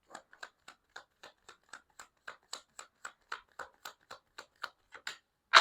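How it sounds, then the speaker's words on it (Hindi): Tarot cards are shuffled in a steady run of about twenty light, evenly spaced snaps, close and quiet, ending in one louder rustle. "मैं शफल कर रही हूँ"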